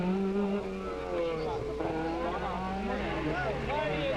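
An Opel Ascona 400 rally car, the ex-Jimmy McRae car, drives a special stage of the 1984 Circuit of Kerry Rally. Its engine note rises and falls, continuous and fairly close, and a voice talks over it throughout.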